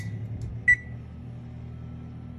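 An oven's control panel is set for 20 minutes to bake keto bagels. One short, sharp electronic beep stands out, preceded by fainter tones, over a low, steady appliance hum with no voices.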